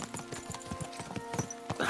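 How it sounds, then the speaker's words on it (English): A horse's hooves clip-clop at a steady trot in the video game Kingdom Come Deliverance 2, a fast, even rhythm of close, crisp hoofbeats with no talking. "Don't you know how to ride a horse?"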